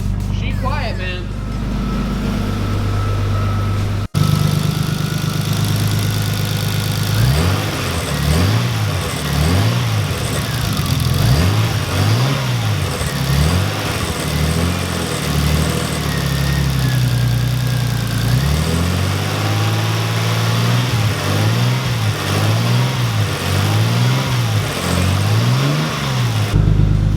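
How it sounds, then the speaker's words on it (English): A car engine on a build project idles with a fast ticking from the injectors firing. It is then revved repeatedly in rhythmic bursts that rise and fall, close and loud, with people talking now and then. "hear those injectors firing"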